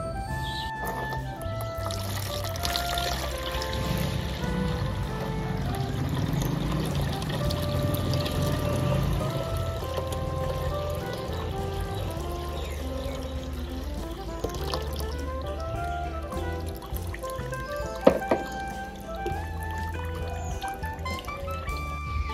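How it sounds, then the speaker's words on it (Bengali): Dark homemade organic pesticide liquid for plants being strained, a soft trickling pour running steadily beneath louder background music. "এরপর এটি আমরা ভালোভাবে ছেঁকে নেব।"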